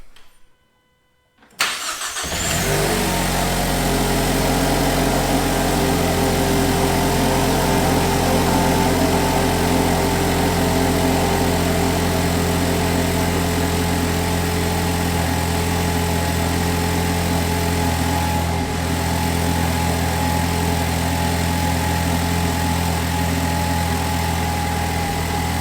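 A Ford Ranger with a swapped 2.3L EcoBoost engine cranks after a brief silence, catches and settles into a loud, steady cold idle that holds for over twenty seconds.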